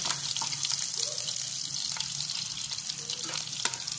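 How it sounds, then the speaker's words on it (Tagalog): Galunggong fish frying in oil, a steady close hiss and crackle running throughout, with light kitchen clatter and a trickle of water. "Habang hinihintay natin yung piniprito natin."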